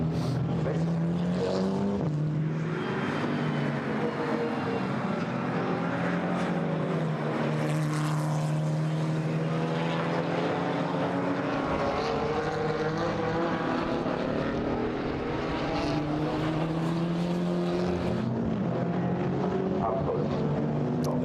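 GT4 race cars scream past the pits at the Nürburgring during a European Series race, a loud sustained engine drone with shifting pitch as cars pass, under race commentary.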